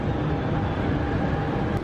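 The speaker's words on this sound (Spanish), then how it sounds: "Aquí va llegando uno de los trenes, toda una novedad para mí, la serie 200" A series 200 Chinese-built train pulls into a Buenos Aires subway station, a steady, loud rumble of wheels and motors filling the platform with no voices.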